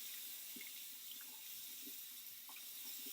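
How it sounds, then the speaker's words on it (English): Water runs from a tap over soapy hands being rinsed at a sink, a faint, steady hiss with small splashes and drips, heard quietly at close range. "And then you're going to rinse off."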